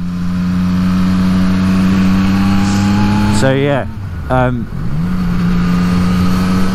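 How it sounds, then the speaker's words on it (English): Yamaha MT-09 motorcycle engine droning steadily while riding along a road, with a brief revving shift of the engine pitch midway and someone talking over it. "so commuting via motorcycle"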